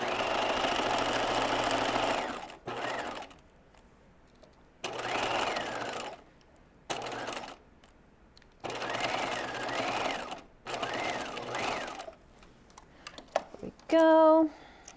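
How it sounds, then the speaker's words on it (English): A sewing machine sews a narrow zigzag along the center back waistband seam of cigarette pants with elastic, working in repeated bursts of rapid stitching with pauses between, close and clear, ending in a short higher whir. "We're going to sew this center back waistband seam."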